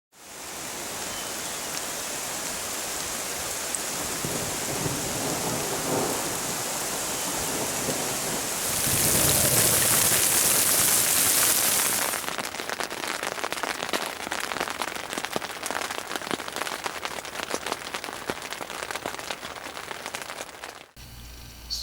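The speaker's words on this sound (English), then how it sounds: "Before long we started to hear thunder up in the distance." Steady heavy rain in the mountains while camping, a broad continuous hiss that swells louder for a few seconds before settling into a dense pattering wash; no distinct thunder rolls stand out and nobody speaks.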